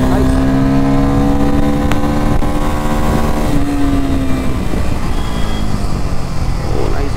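A Bajaj Pulsar F 250 motorcycle riding in second gear on a highway, a loud, steady engine drone with rising and falling pitch and strong wind rush, heard close from the rider's position.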